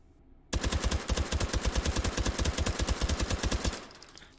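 Rapid suppressed automatic fire from an H&K MP5SD submachine gun held pistol style without a stock in the VR game H3VR: one sustained burst of about thirty evenly spaced muffled shots, close and loud, then a short tail.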